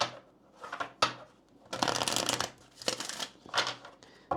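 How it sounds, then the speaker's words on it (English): Kipper cards being shuffled by hand at a tarot-style reading table, soft riffling bursts in several separate waves, close and fairly quiet, with no talking. "let's go ahead and clarify the situation even more by pulling some Kipper cards here"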